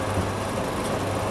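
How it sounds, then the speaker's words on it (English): Constant broadband whoosh of a kitchen extractor fan running steadily while chicken curry cooks, close and fairly loud, with a low hum underneath and no voices. "sorry about the extract fan noise"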